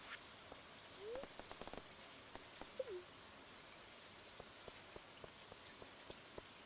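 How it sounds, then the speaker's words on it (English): Steady rain in the video game Stardew Valley, a soft continuous patter with scattered droplet ticks and a couple of faint game chimes, quiet throughout. "let's walk around in the rain"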